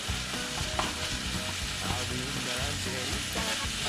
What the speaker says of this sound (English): See how it's sizzling? A lot louder now. It's because it's dry in the pan, it's getting brown.